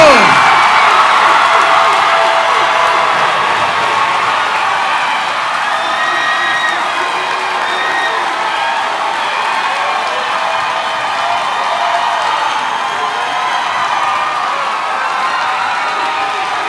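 A large crowd at a high school graduation ceremony applauds, cheers and whoops for graduating students, a dense sustained roar of clapping and shouts that stays loud throughout with only slight swells.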